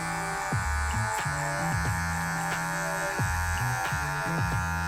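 An electric hair clipper fitted with a number one guard buzzes continuously while cutting a skin fade, a steady close hum with repeated brief changes in tone as the blade moves through hair.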